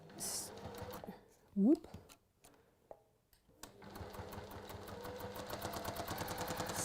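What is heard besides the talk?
sewing machine stitching down a fabric strip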